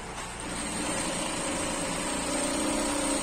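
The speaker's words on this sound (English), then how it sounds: "As you are sewing, you'll be drawing out the fabric under." Sewing machine stitching agbada fabric with inner interfacing, a steady close mechanical whir and hum that holds an even drone throughout, with no talking.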